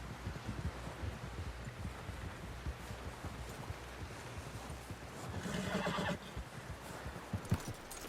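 A horse whinnies in Red Dead Redemption 2, with hooves clopping and wind rustling through a busy outdoor game soundscape, the neigh rising briefly out of the steady background.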